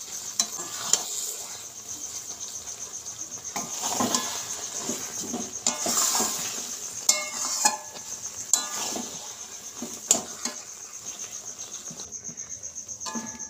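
Gokul sweet mixture stirred continuously in a pan as the syrup dries, soft scraping and sputtering strokes in an uneven rhythm over a steady high insect-like hiss, no talking.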